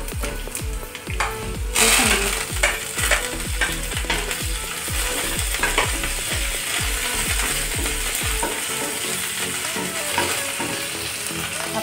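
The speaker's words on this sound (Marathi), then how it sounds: "आपली फोडणी तयार झालेली आहे।" Green chilli, cumin seeds and curry leaves crackle and sizzle in hot oil as a tempering for South Indian curd rice, with rapid popping bursts and dense frying hiss, loud and close, and no talking.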